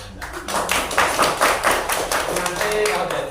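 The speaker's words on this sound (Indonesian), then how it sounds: "Wah, tepuk tangan." Children and adults clap hands together in an elementary school classroom, a short burst of brisk, fairly loud applause with a voice speaking over it.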